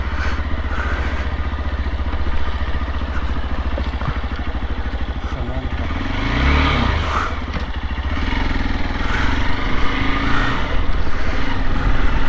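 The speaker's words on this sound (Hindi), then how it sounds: "जब तक बाइक को वार्म अप करते हैं," Motorcycle warming up on a mountain trip in Sikkim, a close, steady idling rumble with a brief rise in revs partway through, running alone throughout.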